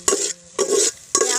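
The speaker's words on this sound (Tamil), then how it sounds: "அடி பிடிக்காமல் கிண்டணும்" Egg biryani boiling in a pot is stirred with a utensil, three distinct scraping, sloshing strokes in an even rhythm, close and clear, with a faint bubbling between them.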